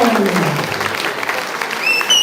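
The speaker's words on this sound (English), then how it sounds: "with a standing ovation, give us again the clap" A standing ovation at the Kripotsava 2023 spectacle at Kripalaya, dense audience clapping steady and fairly loud throughout, with a voice faintly over it early on and a bright whistle-like tone near the end.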